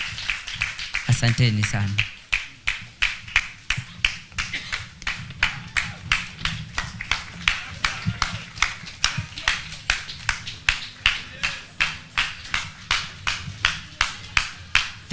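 Rhythmic, evenly spaced claps from an audience at a presidential-attended launch event, a steady beat of sharp hand strikes continuing throughout after a brief burst of speech at the start.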